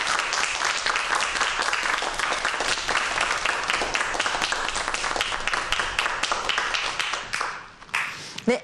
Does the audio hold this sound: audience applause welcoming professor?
yes